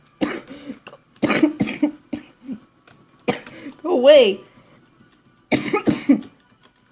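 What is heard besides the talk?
coughing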